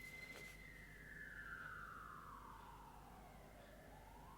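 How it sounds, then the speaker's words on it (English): Police car siren passing through a city street, a single descending wail sweeping down and starting to rise again, distant and faint over steady low traffic rumble. "And now we have a police car."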